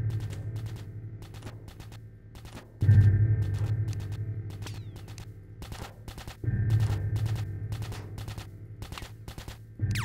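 Small laser weapon firing in the Project Aftermath video game: two sustained bursts of rapid, clicking pulses over a steady low hum, each lasting a few seconds, with a quieter stretch between them.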